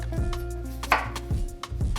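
Knife chopping vegetable stems on a cutting board while preparing Pad Si Ew, with several sharp, close thuds at an uneven rhythm and no talking over them.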